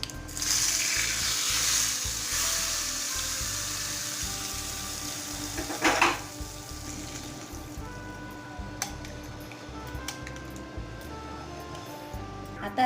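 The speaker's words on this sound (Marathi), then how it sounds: "मोहरी छान तडतडली आहे." Mustard seeds spluttering in hot oil with asafoetida and cumin, a tempering for potato yogurt raita, give a steady close crackling sizzle throughout, with a louder burst of popping near the middle.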